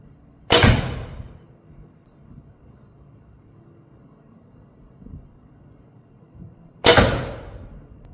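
Two sharp releases from a Smaug SR bow at about 28 pounds draw weight, each a loud pop with a quick ringing decay, several seconds apart against quiet background.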